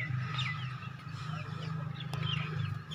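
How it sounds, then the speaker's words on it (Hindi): Chickens of many breeds cluck and call on a farm, a soft, continuous scatter of short bird calls over a low steady hum, fairly faint and without talk. "मुर्गियाँ चेक करा देती ने, हर डिज़ाइन में माशाल्लाह मौजूद हैं"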